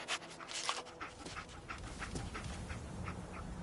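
The dog Dogmeat pants in rapid, steady breaths with a few faint whimpers, quiet and close, heard alone without speech.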